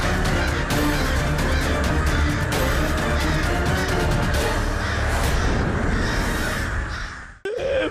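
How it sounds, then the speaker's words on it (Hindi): A flock of crows caws and squawks aggressively during an attack, loud, dense overlapping calls with sharp bursts, ending abruptly. "कौवे तो आक्रामक हो रहे हैं।"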